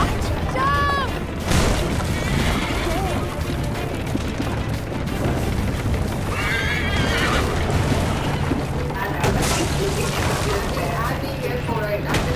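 A horse neighs and whinnies in the Assassin's Creed Liberation video game, a loud whinny near the start followed by galloping and clattering action sounds, with bursts of other game effects throughout.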